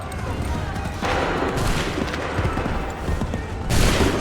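A volley of massed gunfire in a combat video game, a steady dense crackle of shots that swells in several loud waves under shouted commands.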